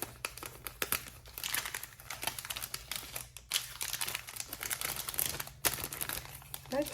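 Crinkly candy treat wrappers rustle and crunch as they are packed into a small box, with close, continuous crackling and scattered handling clicks and brief pauses.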